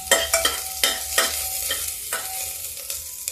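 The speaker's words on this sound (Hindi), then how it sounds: "ये लहसुन देखिए, लहसुन भून जाएगा।" Garlic fries in hot oil in a home kitchen pan, with a continuous close sizzle broken by repeated scraping stirs at an uneven rhythm.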